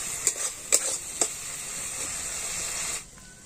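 A ginger-garlic, cumin and chili powder spice paste fries with a splash of water in a pan, giving a steady close hiss with three quick spoon scrapes early on, then settling quieter near the end.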